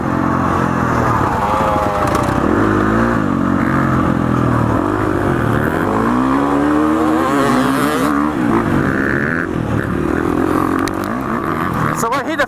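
A 2019 KTM 350 XCF dirt bike engine pulled hard under throttle, loud and close, its revs rising and falling in steady waves through the whole stretch.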